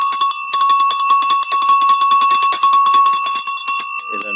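The eighth bell in a numbered set ringing continuously as a rapid, loud metallic clatter of fast repeated strikes, steady for about four seconds before stopping abruptly.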